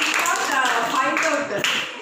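Classroom children clap in a short, busy burst of quick overlapping claps, with chatter and voices mixed in.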